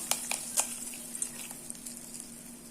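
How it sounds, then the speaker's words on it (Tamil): Tempering with asafoetida added to pongal in a pan, a faint close sizzle with a few sharp pops and crackles early on, then quieter bubbling under a low hum. "இப்போ நம்ம இந்த பொங்கல்ல இந்த தாளிப்பை சேர்த்துடலாம்"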